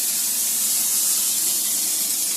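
A shower in a Swift Challenger 580 caravan sprays water steadily to bleed air from the water system, giving a continuous, fairly loud hiss with no pauses.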